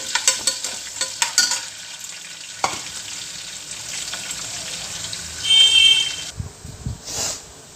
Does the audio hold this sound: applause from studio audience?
no